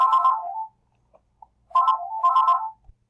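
A telephone ringtone sounds loud and near in two electronic bursts separated by a short quiet gap, with faint clicks in between and no speech.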